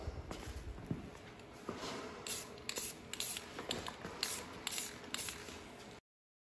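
Spray paint hissing onto a steel or aluminum wheel during restoration, in a series of short light bursts with brief gaps, close and fairly quiet.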